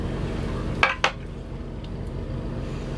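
Dishes and cutlery clinking together inside a van, two sharp close clatters in quick succession over a steady low hum, then quiet.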